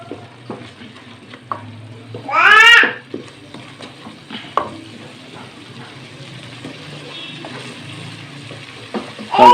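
Keema fries with spices in a pan, a low steady sizzle under intermittent stirring scrapes and clanks, with one loud squeaky scrape partway through and no talk.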